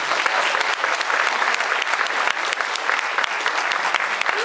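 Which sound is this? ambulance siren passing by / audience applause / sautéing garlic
audience applause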